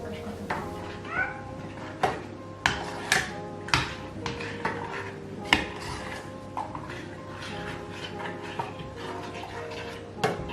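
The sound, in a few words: cat meowing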